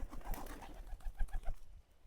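Local pigeons being hand-fed give soft, throaty coos in several close pulses, with a faint patter of movement between them and no talk.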